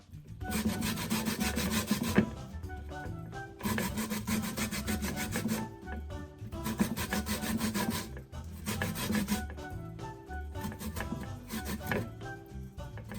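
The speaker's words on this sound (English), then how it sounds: "So you can either grate from this side longitudinally or across the short side." Cassava root grated by hand on a grater, rhythmic bursts of close, coarse rasping strokes in repeated runs with short pauses between them, no voices.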